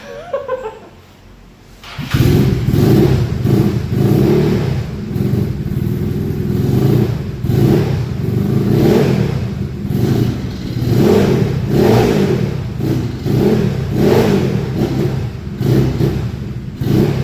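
A yellow Yamaha Mio scooter that had not been started in a long time, fitted with a prototype exhaust, starting up and revving: a loud, rough engine note swelling and falling in repeated throttle blips close by.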